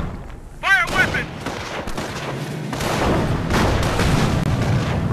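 Weapons firing in the Company of Heroes "Sattevast" mission: sharp gunshot and artillery bursts over dense battle noise, a brief whistling rise near the start, then a steady loud roar of combat.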